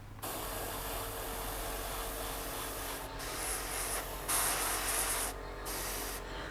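Steady, continuous airbrush hiss of paint spraying at about 30 psi, broadband and fairly close, with a few brief pauses and surges as the trigger is eased.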